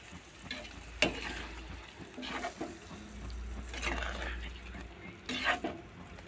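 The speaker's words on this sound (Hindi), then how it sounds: "इन सब चीज़ों को हम उलट पुलट कर देंगे" Chilli garlic potatoes with tomato sauce are tossed in a pan, with a soft sizzle under scraping stirs and clanks of the spoon on the pan.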